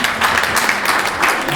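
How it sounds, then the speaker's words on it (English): An audience at an interdisciplinary panel on art and urban spaces applauds the panelists, a brief, full burst of clapping heard up close and steady throughout. "Maybe let's just give them a round of applause."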